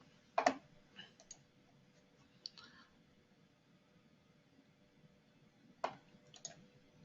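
Computer mouse clicks during engineering software work, quiet and close, with a sharp double click near the start, a few lighter single clicks scattered after it, and another double click near the end over a faint room hum.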